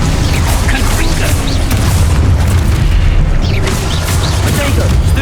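Confringo fire spell blasting in a Hogwarts Legacy battle, a dense, continuous booming roar of explosions and combat effects filling the whole stretch, loud and layered with voices and clashing magic underneath.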